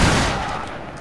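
Musket-style gunfire in a Mount & Blade Warband mod set in the American Revolution: a sharp close shot bursts at the onset and then fades into a decaying rumble over about a second, with no talking.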